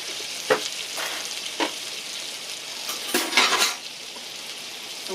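Two cloves of minced garlic fry in a pan for a cream sauce spiced chicken, giving a steady close sizzle with a few brief stirring scrapes and clinks of a utensil against the pan.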